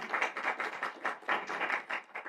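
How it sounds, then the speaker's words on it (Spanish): An audience at a university lecture event applauds with steady, dense clapping that carries on evenly through the moment, moderately loud in a hall, with no voices. "para quien pido un aplauso, por favor"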